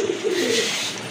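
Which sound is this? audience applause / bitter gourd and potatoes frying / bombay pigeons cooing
bombay pigeons cooing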